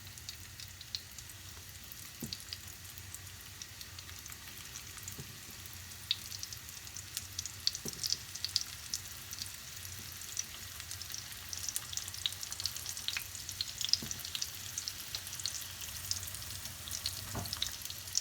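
Dough for a quick Turkish pastry frying in hot oil, a steady close crackling sizzle with scattered sharper pops running throughout, no voices.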